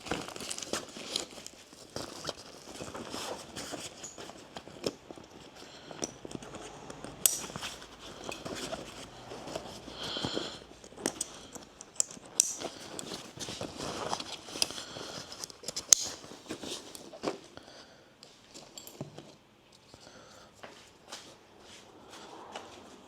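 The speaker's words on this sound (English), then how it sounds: "I'm going to test fit a US10 Kriega bag" Kriega US10 dry pack bag handled and fitted onto a NiceCNC rear luggage rack on a KTM 890 SMT motorcycle: steady close crinkling and rustling of fabric with scattered clicks, scrapes and light taps, no talking.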